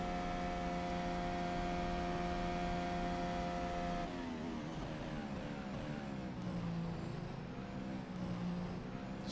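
Formula 1 car lapping Suzuka in a sim race, a high sustained engine whine with steady tone that shifts into rising and falling gear-change sweeps partway through, loud and continuous with no voices.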